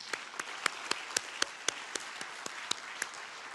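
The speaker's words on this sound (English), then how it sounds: "round of applause." An audience at an ASEAN defence chairmanship handover applauds the Malaysian delegation, a steady patter of claps with sharper individual hand claps standing out, moderately distant.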